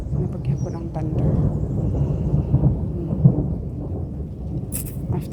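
Thunder rumbles through a rainy summer night, a continuous low roll that swells and fades with a sharper crack midway, while rain patters steadily underneath.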